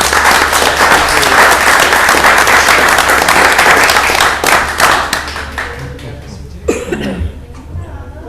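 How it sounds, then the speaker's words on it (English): Applause from the audience at a property owners association meeting honors an employee, a dense steady burst of clapping that thins out toward the end with a few stray claps and light noise. "If you could join me in giving her a round of applause."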